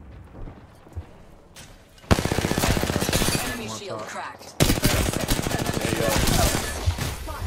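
Rapid automatic gunfire bursts from an Apex Legends match, loud and close, starting with scattered shots then two sustained volleys of fast repeated rounds, with a player talking over the action.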